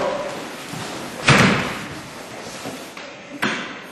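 A body lands hard on a mat during a grappling throw, a dull, heavy slam at close range, followed a couple of seconds later by a lighter thud amid faint room noise.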